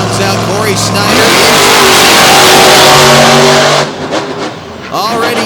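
A monster truck's engine roars in a sustained, loud rev at an arena show as Corey Snyder drives out, then drops away, with an announcer talking before and after the burst.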